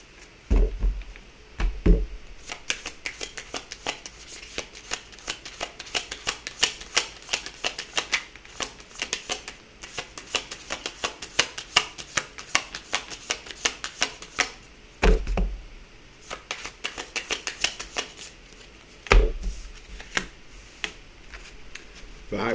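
Tarot cards shuffle in a long run of rapid, close riffling flutters, broken by a few louder thumps and brief pauses.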